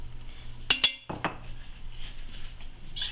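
A metal spoon clinks against the side of a pot of crab bisque, with a few sharp taps close together, then a quieter scrape and faint stirring under a low background hum.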